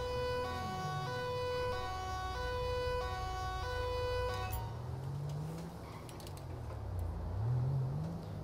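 Police car siren in GTA 5 with the LSPDFR mod, a slow low wail rising and falling repeatedly beneath steady engine rumble and a beeping electronic pattern early on, fairly loud, without talk.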